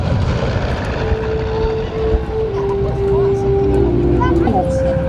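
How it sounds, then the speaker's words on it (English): Propeller-driven warbirds including T-6s and B-25s fly in formation at an air show, a steady loud engine drone with a slowly falling pitch as they pass, under continuous announcer talk. "a lot of formation flying today with the T-6s, the 16 B-25s from the deck of an aircraft carrier"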